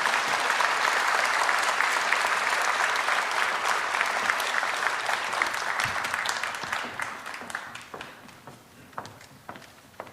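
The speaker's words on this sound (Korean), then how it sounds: "박수로 따뜻하게 맞아주시기 바랍니다." A church congregation applauds during a harvest thanksgiving worship service, welcoming a deaconess to give a testimony; steady, full clapping that thins out toward the end into scattered claps.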